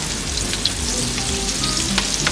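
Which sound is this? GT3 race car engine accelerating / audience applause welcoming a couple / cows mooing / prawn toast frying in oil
prawn toast frying in oil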